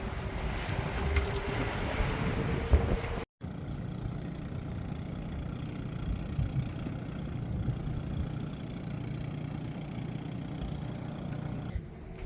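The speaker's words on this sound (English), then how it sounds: "Fishing fleet is coming in this morning." Fishing fleet boats motoring on the open sea off Lombok, a steady low engine drone mixed with wind buffeting and water wash, continuous and fairly distant throughout.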